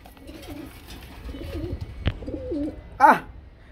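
Baghdadi running pigeons coo close by, repeating soft, low, rolling coos three times, followed by a brief bright sound at the end.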